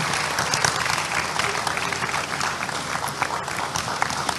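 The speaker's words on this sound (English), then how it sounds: "Please let's welcome him with a round of applause." An opening ceremony audience gives a round of applause to welcome a health ministry representative, a thick, continuous roar of many clapping hands, loud and even throughout.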